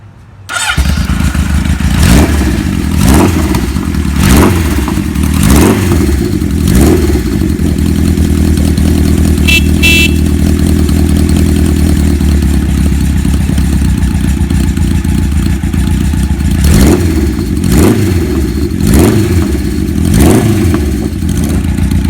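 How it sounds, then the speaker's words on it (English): A 1974 Kawasaki Z1 900 four-cylinder motorcycle, engine warm and started without choke, cranks briefly then catches and idles loudly and steadily, with a few blips of the throttle rising and falling near the end. "Okay, I'm gonna start her up here. The motor is a little warm, so I'm not gonna give it any choke."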